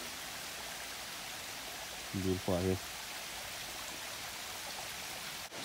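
Steady rain falls outdoors at Natural Bridge, Virginia, a continuous even hiss through the whole stretch, with a brief spoken remark partway through.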